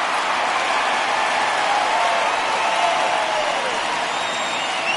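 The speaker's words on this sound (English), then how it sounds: "So he receives a nice ovation from this home crowd" Steady crowd applause and cheering for a departing starting pitcher from the home fans at an Astros baseball video game in Houston, a continuous broad wash of clapping that holds at even loudness throughout without talk.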